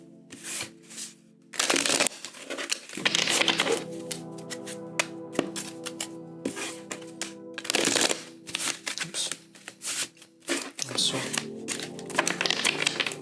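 Tarot cards riffle and snap in repeated bursts of shuffling, close and crisp, with short pauses between rounds and no talk over them.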